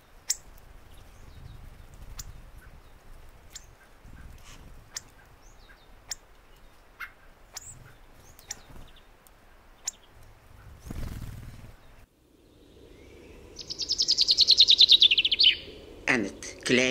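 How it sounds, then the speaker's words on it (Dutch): A hawfinch sings in winter, giving sparse, sharp ticking calls over faint background noise, then a loud rapid trilling phrase near the end. "de appelvink"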